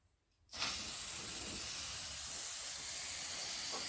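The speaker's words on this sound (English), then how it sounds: "So I'll spray that with some rust converter." A steady, loud aerosol hiss of rust converter sprayed onto a rusty door seam of a 1988 Ford F-150 starts abruptly after a brief quiet moment and continues unbroken, close up, with no voices.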